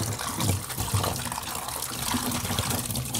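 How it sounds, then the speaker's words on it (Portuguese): Tap water pours steadily into a laundry tub, a continuous close rushing gush with no talk over it. "Água direto."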